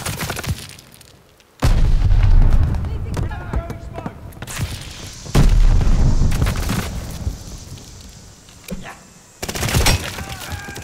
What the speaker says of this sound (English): They're sending mortar shells!